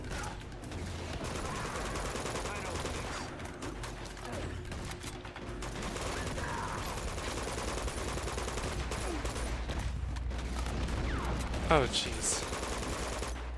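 Gunfire in the video game Uncharted 2, with rapid bursts and scattered shots set against a dense, noisy backdrop of action, while a man reacts briefly.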